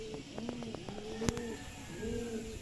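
A flock of pigeons coos softly in soft, repeated low calls, with a faint rustle and one sharp click partway through, heard from a moderate distance outdoors.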